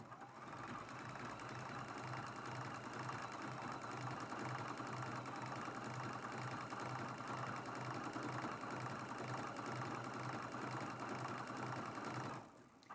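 A sewing machine runs a decorative, non-straight stitch through glue-basted layers of a T-shirt quilt, giving a steady, even mechanical whir that lasts about twelve seconds before stopping, with no talking.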